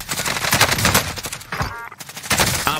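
Dense rapid gunfire in Call of Duty Warzone striking the player from behind, loud sharp bursts packed close together that fill the moment with only a brief dip.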